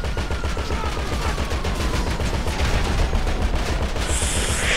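Video game gunfire in a multiplayer shooter, a dense rapid burst of repeated automatic shots and loud explosive rattle running continuously, close and heavy without clear speech.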